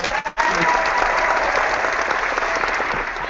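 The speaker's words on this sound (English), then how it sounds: "Applause." A class audience breaks into applause after a physical education lesson, a brief stutter at the start and then thick, continuous clapping from many hands, steady and fairly loud.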